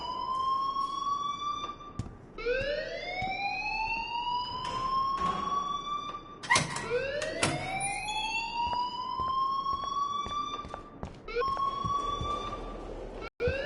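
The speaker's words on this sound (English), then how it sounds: "please turn off that alarm since that's your job." A wailing electronic alarm in the Life is Strange video game repeatedly sweeps upward in pitch and holds, cycling several times, loud and steady with short gaps between wails.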